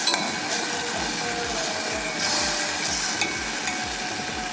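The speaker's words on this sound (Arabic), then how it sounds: "ومنحرك." A spoon stirs a flour roux as chicken broth is added for kabsa sauce, quick repeated scraping strokes in a steady rhythm over a soft sizzle from the pan, close and continuous, with no talking.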